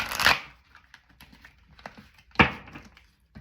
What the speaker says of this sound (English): I'm gonna shuffle this 3 times and then we out.